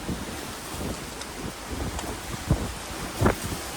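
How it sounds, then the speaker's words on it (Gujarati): Steady roar of wind and rain from a windstorm lasting over 20 minutes in Morbi, Gujarat, fills the air, broken by a couple of sharp cracks of thunder near the end. "મોરબીમાં ફૂલ વાવાઝોડું 25 મિનિટ થઈ ગઈ છે"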